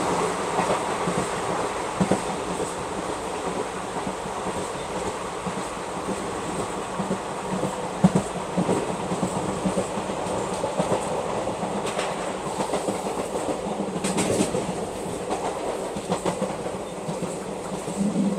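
Nagaland Express passenger train hauled by an ALCO WDM3A diesel locomotive rolling through a curve, with steady clickety-clack of wheels on rails and rumbling carriages heard from on board, with occasional louder clanks.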